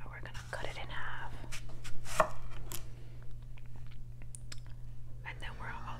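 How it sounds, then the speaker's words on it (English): A knife slices through an avocado on a cutting board for guacamole, giving crisp, close cuts and taps against a low steady hum, with soft whispered talk in between. "We're gonna use the same knife and we're gonna cut it in half."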